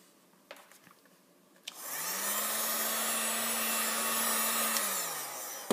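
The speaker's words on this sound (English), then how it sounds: "I'm just going to get the heat gun out and start heating up some of these" Heat gun switched on after a couple of faint handling clicks, spinning up into a steady loud whooshing blow of hot air with a constant motor hum, then winding down at the end.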